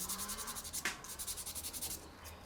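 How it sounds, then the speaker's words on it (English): Sandpaper of 220 grit rubs excess glue off the gill plate of a handmade fishing lure, making a quick, steady run of close, soft scratchy strokes with one sharper scrape near the middle. "220 grit sandpaper. We want to sand off the excess glue now on the surface of that plate, of that gill plate"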